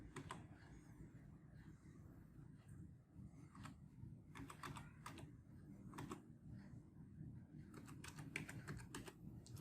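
Keys on a computer keyboard are tapped as a password is entered, irregular clusters of soft, close clicks over a faint room hum.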